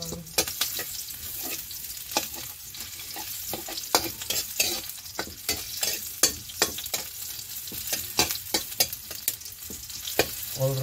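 Mushrooms frying in a hot pan while being stirred, a continuous close sizzle with frequent sharp clicks and scrapes of the utensil over about ten seconds, no voices.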